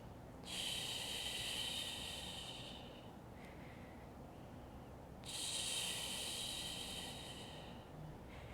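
Slow breathing during a beginner-to-intermediate Pilates core exercise: two long, soft breath cycles, each a gentle breathy hiss rising and fading over a few seconds with a quiet pause between them.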